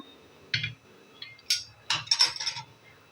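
Curd being stirred in a metal pot, heard as several close clinks and scrapes of a utensil against the vessel in short irregular bursts, with quiet pauses between.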